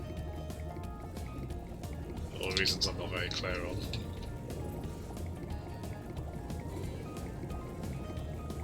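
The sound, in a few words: Spyro character jumping into a waterfall, splash, Spyro Reignited Trilogy video game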